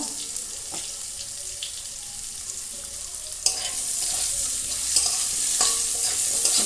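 Fish frying with turmeric in a pan at a home stove, a soft steady sizzle joined by occasional scrapes and stirring clatter, growing louder partway through as more goes into the pan.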